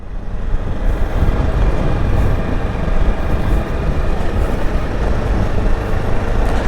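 Riding a Honda CRF 300 Rally motorcycle along back roads produces a steady, loud engine drone with constant wind rumble, unbroken and with no one talking.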